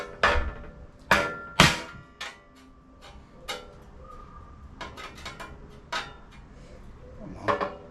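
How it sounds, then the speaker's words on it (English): Hammering on metal while restoring an old car: a handful of sharp, ringing blows land irregularly, loudest early on, with quieter taps and light clatter in between. "Me proper hammer."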